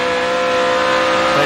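A NASCAR Nextel Cup race car, a Dodge, roars steadily at speed during the 400-mile race at Michigan, with a loud, sustained engine drone and no break.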